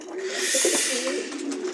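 A racing pigeon coos in its loft, a close, low throaty rolling call repeated in short phrases over a soft airy hiss.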